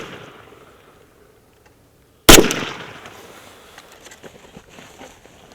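A single sharp, loud gunshot into layers of body armour vest stacked on top of each other at contact distance, a hard crack with a ringing decay, followed by quiet outdoor rustle.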